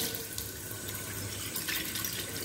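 Tap water runs into a glass titration flask while it is washed out, a steady close splashing and gurgling stream with small bright splashes.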